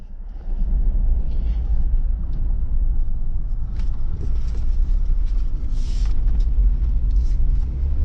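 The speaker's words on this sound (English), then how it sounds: "these wheels are gonna be pretty" Big wheels on a turbocharged Jeep Wrangler roar steadily on the road, a loud continuous low rumble heard from inside the cabin, with no talking.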